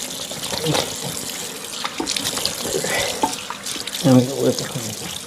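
Cold tap water runs into a sink while someone splashes it onto their face, with a louder burst of splashing toward the end.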